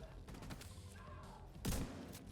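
A shotgun in the video game The Division 2 fires a single heavy, booming blast near the end, preceded by quieter scattered shots and background noise.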